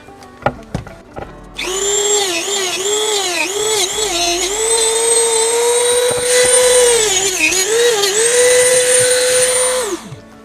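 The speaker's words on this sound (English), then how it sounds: "You can cut this however you want. I just happen to have a Dremel handy." Dremel rotary tool cutting through a livewell pump hose: a high, whining spin that rises, then holds for about eight seconds, its pitch dipping and wavering as it bites into the hose, loud and close, after a few sharp clicks.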